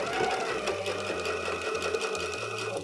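A sewing machine stitches a dart in fabric close by, its needle running in short bursts with brief pauses between, steady and clear with no talk over it.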